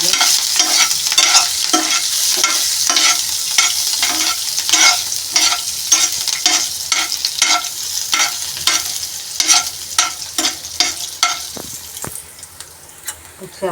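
Peanuts and green chillies fry in a pan for batata poha, a steady sizzle under repeated rhythmic scraping strokes of stirring, close and fairly loud throughout.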